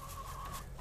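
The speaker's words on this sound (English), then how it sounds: "here we are at the mobile chicken coop on Pasture 2, and we have an issue with our chickens" Chickens cluck at a mobile chicken coop out on a pasture, a short, steady burst of hen vocalizations close by with no talking over them.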